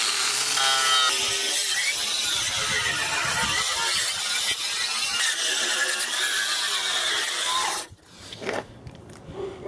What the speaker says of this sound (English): it's coming off really well with this brush cup